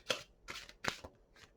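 Several quick riffling bursts of tarot cards being shuffled, close up, with short pauses between them.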